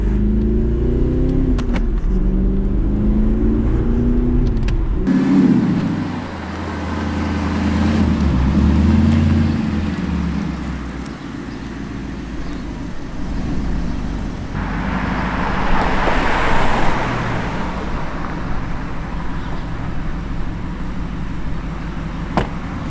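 An Audi R8 cruising along a road on a short drive, its engine note rising and falling through gear changes and revving, with steady road and tyre noise throughout and no talking.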